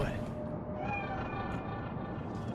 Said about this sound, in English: Do you see it? That cat? Fine-looking feline.